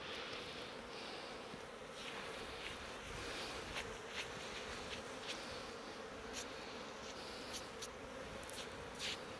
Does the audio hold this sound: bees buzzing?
yes